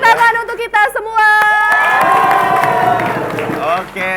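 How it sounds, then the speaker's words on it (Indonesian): Studio audience at a televised high school quick-answer quiz show cheering and shouting with applause, loud and sustained, with voices and whoops over a dense crowd roar. "Tepuk tangan untuk kita semua."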